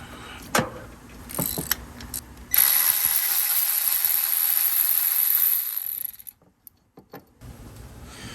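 Power tool or ratchet loosening an 18mm bolt on the engine of a 2008–2013 Nissan Rogue during valve cover removal: a few sharp clicks, then a steady loud mechanical whirr lasting about three seconds that stops abruptly, followed by faint clinks.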